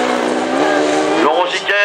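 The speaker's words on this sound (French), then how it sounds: "Benjamin Toubulik qui vient de passer avec le kart numéro 11." A racing kart, number 11, in an open kart race, its engine a loud, steady buzzing drone that rises in pitch and then fades as it goes by close, with someone talking over it.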